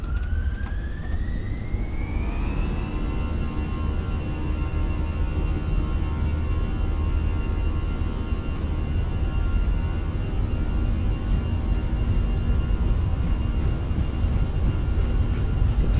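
The jet engines of an Airbus A320 on a Delta Airlines flight spool up to takeoff thrust. A rising whine climbs over the first two seconds and then holds as a steady high tone above a loud, continuous roar.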